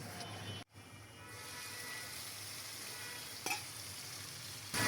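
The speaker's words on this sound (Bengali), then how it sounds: "এখন শাকটা ভাজি করে নেব।" Spinach frying in a pan makes a continuous, moderately quiet sizzle that cuts out briefly near the start and then resumes, with one faint knock partway through.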